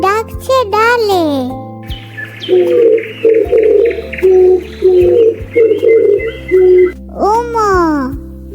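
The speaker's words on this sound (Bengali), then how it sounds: "ঘুঘু পাখি ডাকছে ডালে।" A dove cooing on a branch, a run of soft, low, rounded coos in short repeated phrases, close and clear, with a voice speaking just before and after the calls.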